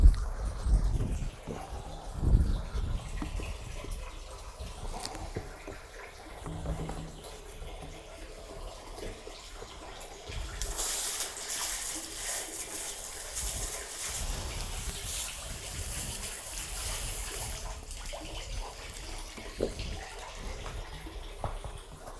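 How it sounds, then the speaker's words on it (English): Water from a hose sprays over a septic pump in a pump tank, a steady hiss and splash that swells louder midway and then settles, with low background rumble and no talking. "Now what we'll do is we'll just hose it down, make sure we don't see anything out of the ordinary."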